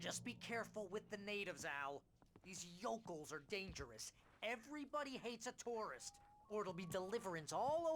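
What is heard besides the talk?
No distinct noise like a dog, phone or traffic.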